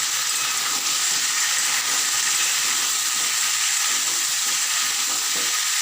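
Chickpeas frying in a pan with green chillies, a dense, even sizzle held at steady level from start to finish, close up with faint stirring underneath.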